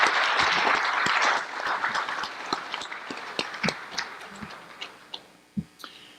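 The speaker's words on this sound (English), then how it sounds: "Could you please join me in giving them a round of applause?" Audience at a 2018 Mojave Water Agency High Desert Water Symposium applauding elected officials, a short burst of dense clapping that quickly dwindles into scattered individual claps.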